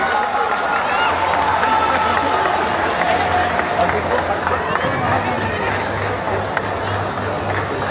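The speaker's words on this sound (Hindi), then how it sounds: "भरपूर तालियां होनी चाहिए।" Large crowd at a Pakistan Independence Day celebration in Dubai clapping and cheering, loud and continuous, with a low hum and scattered voices mixed into the noisy wash.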